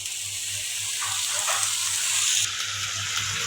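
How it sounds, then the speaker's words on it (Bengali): Steady, close hiss and sizzle of Malabar spinach dropping into a pan of fried dried fish, with a low hum underneath. "এই যে শুটকি হচ্ছে কষানো হয়ে গেছে, আর এই যে পুঁই শাকগুলো হচ্ছে এখন আমি দিয়ে দিব।"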